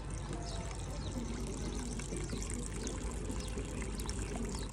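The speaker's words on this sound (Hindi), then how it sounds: "सब्ज़ी को मैंने पानी लगा दिया" Water poured steadily onto vegetable plants in a village garden, a continuous splashing gush that stays even and close from start to finish, with no talk.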